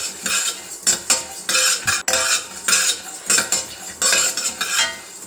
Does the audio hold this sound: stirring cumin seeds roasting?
yes